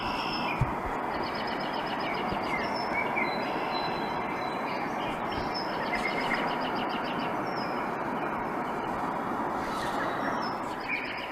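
A roffie N600 white noise sound machine plays one of its sounds, a steady dense rushing wash resembling a passing train, with faint chirps and squeaks on top, continuous and even throughout.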